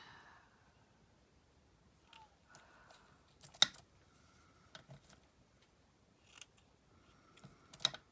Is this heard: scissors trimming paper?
yes